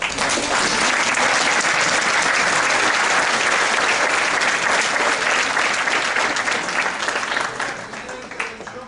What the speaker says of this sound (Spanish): Vamos a aplaudirle al doctor Carlos.